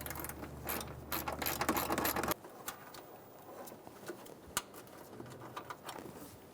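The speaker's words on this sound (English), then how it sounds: "Remove the 10mm bolt for the windshield washer reservoir." A socket ratchet on a 10mm bolt of a 2003-2008 Honda Pilot clicks in quick close bursts, then falls to a few sparse clicks and taps in a quiet space.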